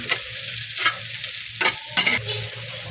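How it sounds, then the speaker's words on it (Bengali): Cabbage with potato and egg is stirred and mixed in a frying pan, with a soft sizzle under a few distinct scraping strokes of a spatula, close up and with no voices. "দিয়ে এখন একটু নাড়াচাড়া করে মিশিয়ে নেব"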